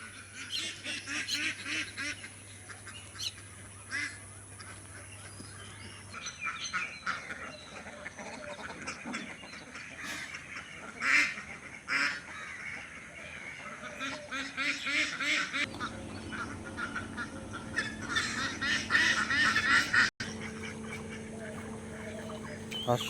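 A flock of farm ducks gathered near a pond keeps up a busy, overlapping chorus of quacks and honks, fairly close and steady throughout, with occasional background voices.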